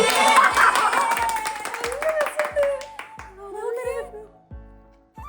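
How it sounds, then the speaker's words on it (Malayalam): A few people clap in a quick, steady rhythm at a first wedding anniversary surprise as a flowered bracelet gift is shown. Close voices and light laughter ride over the clapping. "കൈയടിക്കൂ."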